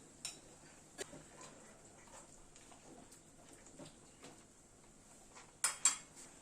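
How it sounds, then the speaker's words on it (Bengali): A lid goes onto a pan of boiling flat beans on a gas stove: a few soft metallic ticks over a quiet background, then a sharper double clatter near the end. "একটু ঢেকে দিচ্ছি, তাড়াতাড়ি শিমটা সেদ্ধ হয়ে যাবে।"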